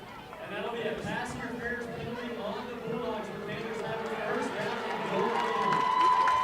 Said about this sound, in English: And listen to that Panther crowd here in the home opener of the 2021 season.